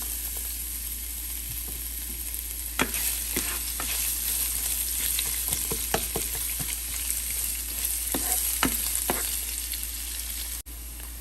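Chopped onion fries in a pan for vegetable kurma, a steady close sizzle with occasional crackles and stirring clicks throughout, no voices.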